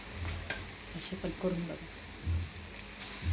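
Chana dal vadas fry in hot oil in a kadhai with a steady soft sizzle and light stirring, while someone talks over it at close range.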